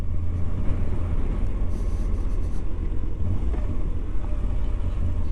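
A Moto Guzzi V85TT motorcycle engine rumbles steadily at 20 mph in third gear, a low, continuous throb with wind noise layered over it and no voice.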